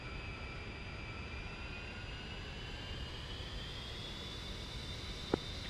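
Military jet engines run up before takeoff, a steady distant roar with a whine that slowly rises in pitch, plus one sharp click near the end, no talk.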